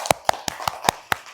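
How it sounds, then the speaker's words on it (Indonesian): A small classroom group claps for a student, six distinct, close, sharp claps spaced at a quick, slightly uneven rhythm, with nothing else around them. "Kasih tepuk tangan untuk Sabrina."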